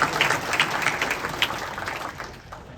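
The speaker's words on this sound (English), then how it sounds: "So, if you don't mind giving a round of applause." Audience applause at an annual meeting of a water utility, a dense burst of clapping that fades gradually over a few seconds.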